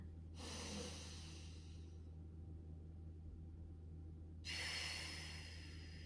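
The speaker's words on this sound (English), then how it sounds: "One more deep breath" A slow, deep breath during a mat Pilates exercise: a long airy inhale or exhale, then a pause, then another breath starting near the end, close and soft over a low steady hum, with no talk.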